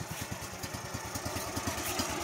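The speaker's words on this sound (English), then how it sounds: "now I am going to start sawing off the bark" Engine of a Woodland Mills HM130 portable sawmill running steadily at mid-distance, a regular low throbbing pulse with a faint clatter, as the saw begins taking bark off a log.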